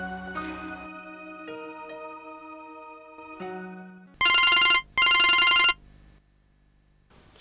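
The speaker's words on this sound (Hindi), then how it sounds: "जरा देखने दो किसका फोन है" A telephone rings indoors in a Pakistani drama scene. Soft tonal music comes first, then two loud, bright bursts of electronic ringing, each a little under a second long, follow one after the other before the sound fades to quiet.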